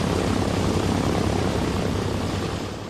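The engines of a PBY Catalina patrol aircraft drone steadily in flight, a dense, loud, unbroken roar that fades only slightly at the end.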